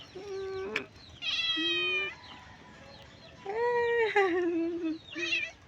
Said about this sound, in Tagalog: This is my lovely cat.